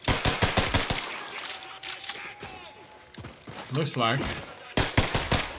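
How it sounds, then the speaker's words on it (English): Rapid pistol gunfire in Wolfenstein II combat, volleys of sharp close shots in quick bursts at the start and end, with a short spoken phrase in the middle. "Trying to kill somebody with a pistol"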